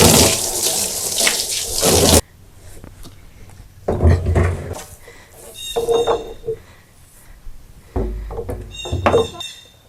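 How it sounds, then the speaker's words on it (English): Water gushes from a hose into a plastic nutrient bucket from a tomato gutter grow setup, a loud splashing burst followed by shorter intermittent bursts of running water with quieter pauses between. "and we're going to hose it out."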